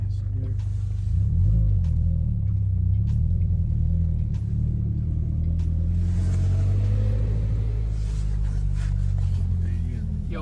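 Toyota 86 riding on freshly fitted BC coilovers, its engine a steady low rumble with road noise throughout, swelling slightly as it pulls along, while people talk inside the cabin.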